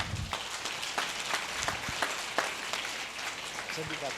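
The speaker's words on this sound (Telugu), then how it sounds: "ఒకసారి గట్టిగా చప్పట్లు కొట్టుకుందాం." Audience applause for a visiting Japanese master at a religious gathering, scattered individual claps of moderate loudness with people talking over them.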